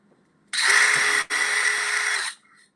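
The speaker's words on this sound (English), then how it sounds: "gonna drill in a couple spots down my board" A power drill boring pilot holes into a board, two close bursts of steady high whine with a brief stop between them, loud and close with no talking.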